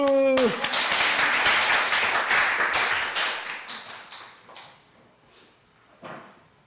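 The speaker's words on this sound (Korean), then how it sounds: "박수" Church congregation clapping during a Sunday worship service, a crisp round of hand claps that follows the tail of a sung note, then gradually thins and fades, with a last few scattered claps near the end.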